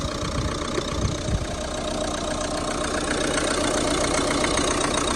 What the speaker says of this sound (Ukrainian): Двигун ну, працює чітко рівно, немає там зауважень ніяк.